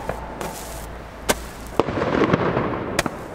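Several sharp firework rocket bangs pop at irregular intervals, with a crackling rumble of bursts in between, moderately distant and outdoors.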